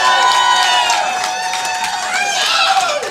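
Comedy club audience cheering and applauding, a loud burst of clapping mixed with rising whoops and shouts from many people, the cheers swelling again toward the end.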